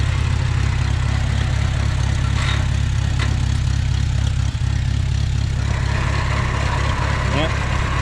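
A 1950 Farmall Cub tractor runs with its PTO engaged, a steady low engine drone holding at an even pace throughout, near and loud, with faint sounds of a voice now and then.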